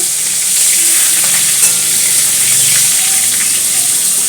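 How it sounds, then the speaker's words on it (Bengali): Steady, loud sizzle of cauliflower and potato frying in a pan, a continuous hiss with faint stirring scrapes and no voices. "আলু কপিটা ভালো করে ভেজে নেব"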